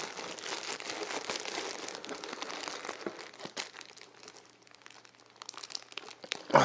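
Packaging on a Wootbox parcel crinkles and crunches as it is opened, close and busy at first, then thinning into sparse rustles before a sharp final crackle.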